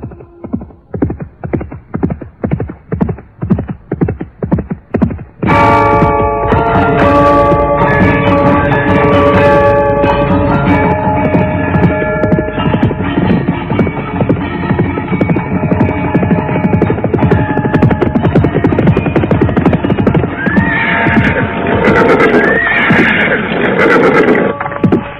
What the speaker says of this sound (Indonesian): tiba-tiba mereka dikejutkan oleh suara derap seekor kuda yang datang dengan cepatnya